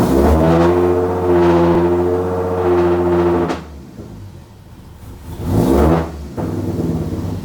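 A Ford Mustang with a 3.7-litre V6 engine idles close by, its deep, steady drone swelling in brief revs. The engine dips quieter for a moment and then surges again.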